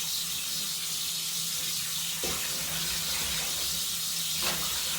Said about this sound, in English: Just gonna turn water off so I don't have to talk above it.